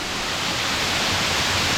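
A hidden waterfall in Zirad roars steadily, a dense, even hiss of falling water that fills the space without breaks or other sounds.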